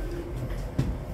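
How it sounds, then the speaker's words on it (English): Inside a Bombardier low-floor LRT car on the ETS Valley Line, a low rumbling ride hum carries through, with a faint clunk partway along and no voices. "we're in the two ETS Valley Line consistent low floor Bombardier LRT train cars"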